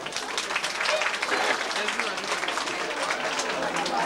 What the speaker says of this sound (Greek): Ένα χειροκρότημα στον δήμαρχο.